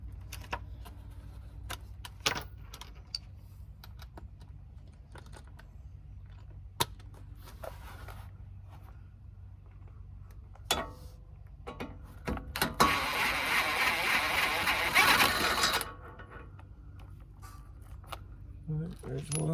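A power tool spins off the lower ball joint bolts on a second-generation Lexus GS, one loud burst of rattling whirring lasting about three seconds amid clinks and shop clatter, with a voice speaking in the scene.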